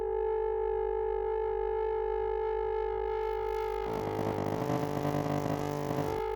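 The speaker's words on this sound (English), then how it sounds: "as we turn this up, we're essentially introducing a feedback loop here, and we're going to get an increasing amount of distortion." Steady electronic tones in an audio matrix feedback loop, clean at first and then breaking into a dense, gritty distortion that grows harsher and fills the spectrum as the level rises, with no voices.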